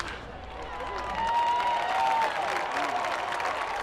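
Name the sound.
baseball stadium crowd cheering and applauding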